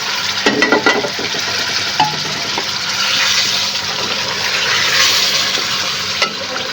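Beef pieces go into hot cooking oil in a karahi and sizzle loudly and continuously, with a few clatters and stirring knocks early on as the frying hiss keeps going.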